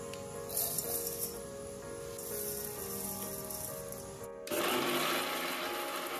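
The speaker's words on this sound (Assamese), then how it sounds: "এতিয়া এইখিনি মই মিক্সিত গুড়া কৰি ল'ম" An electric mixer grinds sun-dried sprouted paddy into powder with a steady high-pitched whir that shifts to a harsher, louder grind partway through, close and continuous with no talk.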